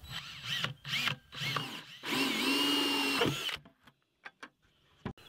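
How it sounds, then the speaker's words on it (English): A power drill whirs in several short bursts while drilling a hole in a bucket, then runs steadily for about a second, followed by a few faint clicks and taps. "we're gonna drill a hole"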